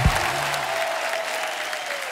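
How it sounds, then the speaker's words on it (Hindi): Studio audience applause on a Hindi television comedy talk show, a dense steady wash of many hands clapping throughout, loud and close, with a brief low voice at the very start. "आप सबकी तालियां ऐसे बजती रहनी चाहिए।"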